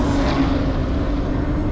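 Porsche engine, either a 997.2 GT3 or a Panamera 4 Hybrid, pulling hard through a corner on a road, heard from inside as a loud, steady, sustained drone with no talk.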